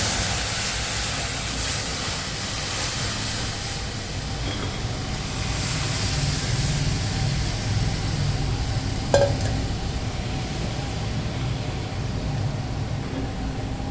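Dal poured into hot oil for a Bengali sour mango dal sets off a steady, loud broadband sizzle and hiss that runs throughout, with a brief clink partway.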